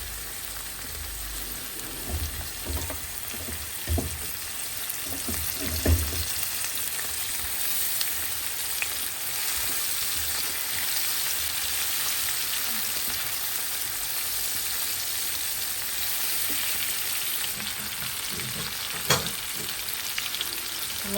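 Bitter gourd frying in a pan with small cut pieces of hilsa fish head makes a steady, rain-like sizzle throughout, with a few stirring scrapes and clinks early on and a faint voice in the background.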